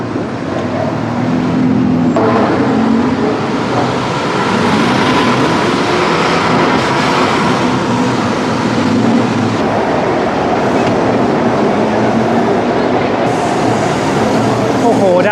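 A BTS Skytrain passing over busy road traffic near Siam station in Bangkok, heard from an elevated skywalk as a loud, steady rumble and roar that continues throughout.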